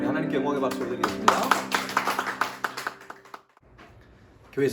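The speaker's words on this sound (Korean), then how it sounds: "박수를 드리겠습니다." A few people clapping in a church service at a blessing, an uneven patter of claps over sustained organ or keyboard chords before it breaks off, then faint room sound and a voice starting to speak.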